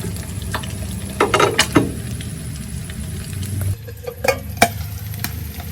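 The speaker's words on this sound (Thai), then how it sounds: "กระเด็นน้ำมันร้อนกระเด็น" Pieces of catfish frying until crispy in hot oil in a pan, a close, steady sizzle with sharp pops and spatters of oil breaking through now and then.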